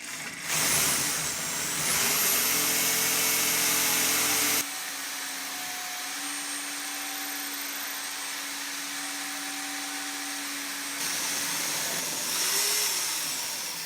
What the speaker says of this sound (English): So I'm just going to go ahead and just drill it out because we need to get this off.